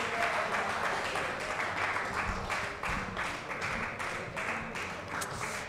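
A Hindi open mic audience at the NTA Awards 2024 claps after a poetry reading, a steady, moderately loud wash of clapping with no voices over it.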